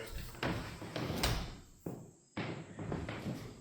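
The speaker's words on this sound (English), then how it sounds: "Let's just close this door." A door in a log cabin is pushed and closed, giving a few distinct knocks and a firmer thud, then a sudden drop to near silence before a low room rumble returns.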